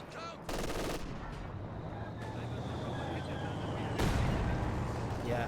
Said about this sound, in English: They're just going to get gunned down by the LMGs.